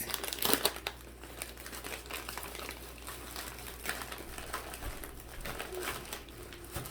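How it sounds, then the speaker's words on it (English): A bag of chips is handled and crinkled while being packed into a small Valentine's goody bag, a continuous close crackling rustle that is louder at the start and then settles to steady crinkles. "I'll add the bag of chips in the back just because it's a little bit"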